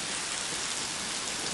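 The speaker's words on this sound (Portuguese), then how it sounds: "a chuva está começando a ganhar força de novo." September rain in Guajará-Mirim, Rondônia, Brazil, falls in a steady, dense hiss. The downpour is heavy and continuous with no voices.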